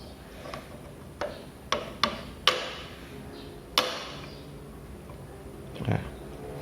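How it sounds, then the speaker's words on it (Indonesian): A hammer strikes the top of a chisel set against a valve-cover nut on an automotive workbench, giving about six sharp metallic taps at uneven intervals over a faint room hum. "Kemudian pukul bagian atas pahat menggunakan palu."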